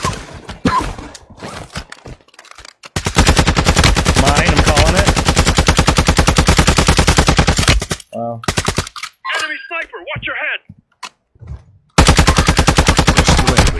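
Rapid automatic gunfire in a video game, sustained loud bursts broken by short gaps, with a few clicks and soft voices chatting between volleys.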